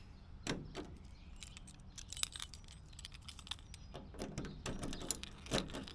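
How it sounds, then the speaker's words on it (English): A key works the door lock of a 1964 International Harvester Travelall, giving quiet metallic jingles and a series of small clicks and rattles from the lock mechanism, close up with no talking. "Here's the door locked."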